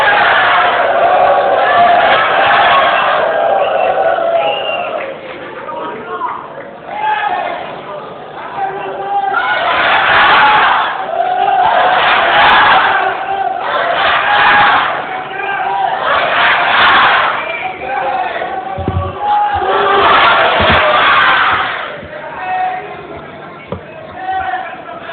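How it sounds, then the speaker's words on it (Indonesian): Crowd at a regional regent candidate debate in Rokan Hulu claps and cheers in repeated loud swells, alternating with a voice speaking over a public address system in between the bursts. "Sambil kita beri tepuk tangan Bapak Ibu sekalian."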